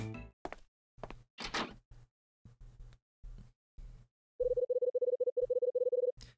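Door sounds in the Last Window detective game: a few soft clunks and thuds, then a rapid run of clicky tones, all quiet and isolated against silence.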